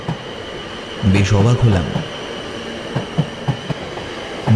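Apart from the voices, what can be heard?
train arriving at station, animated horror movie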